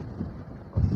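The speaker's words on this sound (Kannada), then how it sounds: "ಆ ಸೌಂಡ್ ಕೇಳ್ತಾ ಇರ್ಬೋದು ಗಾಳಿಯ" Steady wind buffets the microphone with a low roar on a sea bridge at Karwar, swelling stronger toward the end, with no voices.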